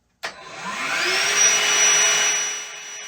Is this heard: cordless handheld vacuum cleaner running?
yes